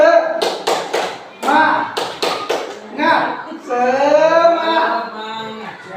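A group of teachers performs a rhythmic clapping chant, sharp bursts of claps in patterned sets alternating with a voice chanting and speaking, all close and loud.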